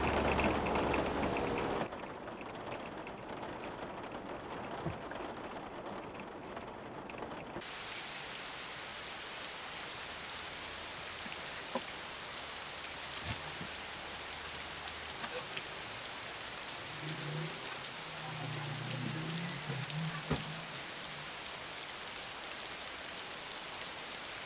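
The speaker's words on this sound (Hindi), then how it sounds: "अंदर आ जाओ, बारिश हो रही है बाहर।" Steady rain falls outside in an even, hissing wash that stays loud and continuous throughout, with faint scattered drips and soft thuds in the background.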